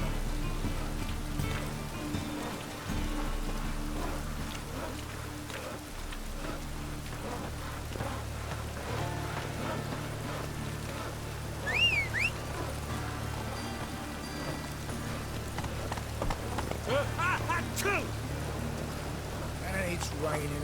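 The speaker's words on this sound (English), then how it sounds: "And it's raining again." Steady in-game rain in The Witcher 3 patters on surfaces with a low rumbling hum underneath, continuous throughout with a few faint tonal chirps.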